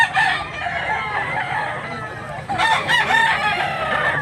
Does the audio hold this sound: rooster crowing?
yes